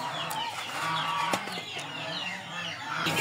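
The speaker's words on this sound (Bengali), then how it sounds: "এই যে মুরগিগুলা এখানে রাখছি," Desi chickens cluck near at hand in a rainy-day coop, a run of short overlapping clucks and a few sharper calls, moderately loud with no voices.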